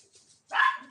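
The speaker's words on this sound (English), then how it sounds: "Dogs." A single dog gives a sharp, loud bark close by after a moment of near silence, with no voices around it.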